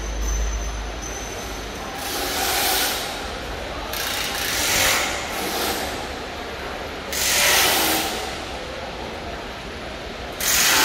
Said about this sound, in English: this area is installed KF94 fish type mask folding machine